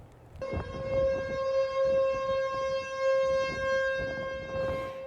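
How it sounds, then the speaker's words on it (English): A tornado siren wails in one long, steady, sustained tone that starts abruptly and carries across a wide outdoor area of Springfield, Illinois, over low background noise. "That tornado siren was heard across Springfield, Illinois, Tuesday afternoon."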